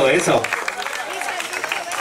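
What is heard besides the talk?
applause for the jury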